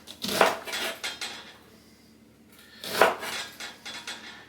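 A kitchen knife cutting into an onion on a board for American goulash, two sharp chopping contacts about two and a half seconds apart with quieter handling sounds between, close and without talk.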